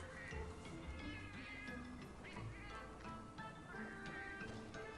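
Cat in Monster Hunter Stories 2, repeated meows rising over game music and ambience, fairly quiet overall.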